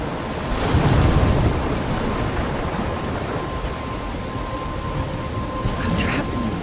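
In the game Life is Strange, a heavy thunderstorm roars with dense, loud rain and a deep rumble of thunder swelling early, then a constant stormy wash with no talking.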